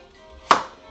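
A knife chops through an apple on a cutting board, giving a single sharp, close chop that fades quickly, with no talk around it.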